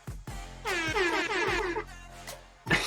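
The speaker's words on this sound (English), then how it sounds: "he throws out that air horn again" An air horn sounds in a couple of wavering blasts, fairly loud, with short thumps and noise around it.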